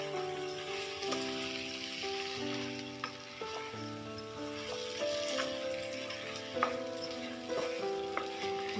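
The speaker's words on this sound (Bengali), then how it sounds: "আমি চালটাকে মশলা দিয়ে একটুখানি ভালো করে কষিয়ে নিই।" Rice is stir-fried with spices for a Bengali katla fish head muroghonto, giving a soft, steady sizzle with scraping stirs over gentle background music.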